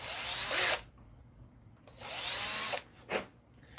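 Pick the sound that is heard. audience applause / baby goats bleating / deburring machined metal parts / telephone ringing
deburring machined metal parts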